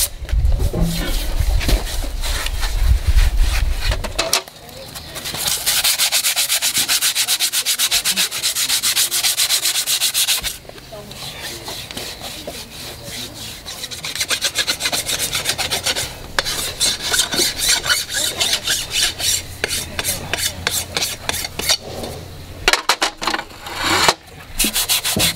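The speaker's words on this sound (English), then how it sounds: "More than one sanding block." Loud, continuous rasping as a worn sanding block is rubbed back and forth against a horse's hoof in steady strokes during horseshoeing, with a short pause midway.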